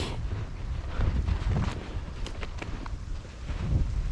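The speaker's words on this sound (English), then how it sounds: "Pretty windy." Gusty wind rushes through a winter hardwood forest at about -20 degrees, roaring and buffeting the microphone in uneven surges with no speech.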